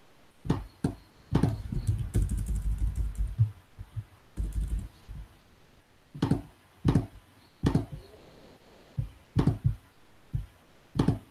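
Computer keyboard typing in bursts during Java programming, with rapid clustered keystrokes and repeated single taps, like deleting code, close and clear with short pauses between bursts and no talking.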